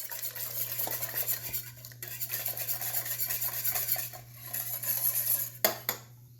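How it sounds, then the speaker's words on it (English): Metal whisk scraping and clinking steadily in a pan as tempered egg yolks are beaten into a chestnut spiked eggnog mixture on the stove, close and continuous, with a low steady hum beneath and a couple of sharper knocks near the end. "while whisking."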